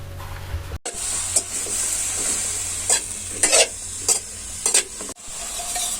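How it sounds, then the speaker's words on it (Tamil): Vegetables such as brinjal and okra sauté in a pan with turmeric, salt and chili powder for a tamarind kulambu: a constant oily sizzle broken by several scraping stirs of a spoon, close and moderate. "காய் சேர்த்த பிறகு அதுக்கு ஏற்ற மாதிரி மஞ்சள் தூள், உப்பு, மிளகாய்த்தூள் சேர்த்து நல்லா வதக்கி விட்டுருங்க."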